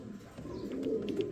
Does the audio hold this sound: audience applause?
no